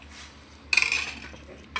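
Hot tempering poured into a pot of sambar gives a sudden sharp sizzling hiss that flares and fades within a second, followed by a second brief burst, with faint metallic clinks before it and no talking.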